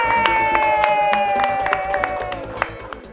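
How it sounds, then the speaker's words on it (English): Studio audience clapping and cheering for spelling champions on a children's educational show, crowd noise mixed with a rhythmic music bed and sustained tones, moderately loud and busy throughout. "A big round of applause."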